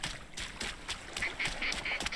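Several ducks quack in the video game Deadside, a run of short, nasal calls at moderate distance over quiet ambient game sound.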